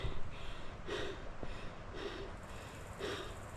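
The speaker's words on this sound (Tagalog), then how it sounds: "Hingal talaga ako." Heavy, labored breathing from a person hiking uphill comes in rhythmic huffs about once a second, close to the listener, with no talking.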